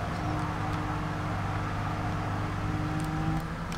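Volkswagen Beetle with a four-gear box driving in Gran Turismo Sport, a steady droning engine hum held at even revs, close and continuous with no gear changes.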